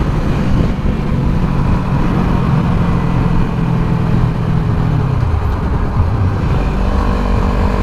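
Kawasaki Ninja 300 ABS, 2014, its small engine revving near 8,000 RPM at about 70 mph, a loud steady drone heard from the rider's position and mixed with strong wind rush and road noise.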